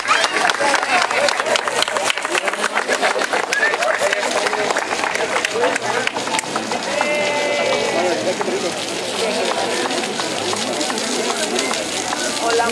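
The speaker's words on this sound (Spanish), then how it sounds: "El aplauso fuerte." Crowd applause at the inauguration of a memorial honouring heroes, a dense, steady patter of many hands lasting throughout, with voices and cheering mixed in.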